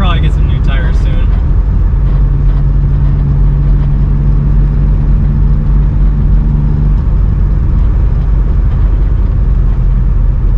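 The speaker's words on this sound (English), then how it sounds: "I always forget how quick this car is." A forced-induction BMW E36 with an M50 manifold swap revs and pulls hard with a steady drone, loud and close, with a high whine at the start.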